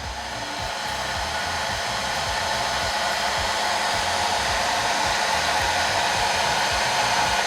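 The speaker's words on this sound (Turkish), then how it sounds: "kesintisiz saç kurutma makinem çalışmaya devam ediyor" A hair dryer running on a pure sine wave inverter UPS, a loud steady blowing whir with a motor drone underneath, constant and close for the whole stretch.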